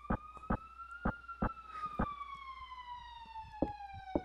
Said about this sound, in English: Sounds like there's a siren.